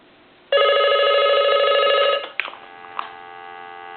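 A Crosley wood wall telephone bell rings in one loud continuous burst of about a second and a half, then stops, followed by two faint clicks over a steady low hum.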